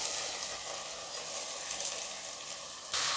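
Rice stirred and lightly fried in oil with softened onions for rice upma, a continuous close sizzle with soft scraping of the stirring, growing briefly louder at the end.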